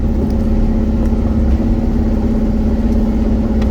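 A project car nicknamed Franky creeps slowly along in low gear on a desert outing, its engine holding a loud, steady, close rumble with no change in pace and no voices.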